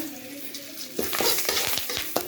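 Whole spices and seasonings for tempering crackle and fry in hot oil in a pan for a chicken dish, a steady sizzle broken by several louder popping bursts and stirring scrapes up close.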